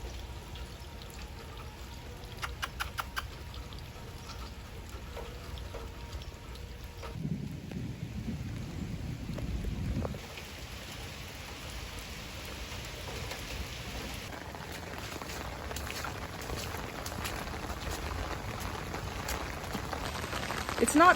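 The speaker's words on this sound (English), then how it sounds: "It's raining, so I'm gonna grab my umbrella" Soft, continuous rainfall outdoors, a faint wet patter with occasional heavier pouring bursts, heard alone at a quiet level.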